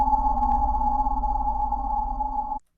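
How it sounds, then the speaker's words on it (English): A sustained synthesizer drone from a sampler's drone air plus preset, a steady hollow tone with a low pulsing undertone, holding evenly for a few seconds before cutting off abruptly. "I picked this drone air plus sound"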